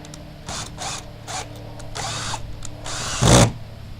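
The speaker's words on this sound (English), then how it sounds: "So now I'm screwing on that beam that I put earlier." A power drill drives a screw to fasten a beam onto a recycled wooden desk, giving several short whirring bursts with pauses between, then one louder, longer final burst, close and with no voices.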